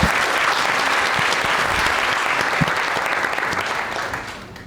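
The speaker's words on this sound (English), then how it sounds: "let's just give a round of applause for our panelists" Audience applause for a panel at a procurement partnership conference, dense and steady from the start, then gradually thinning and fading toward the end.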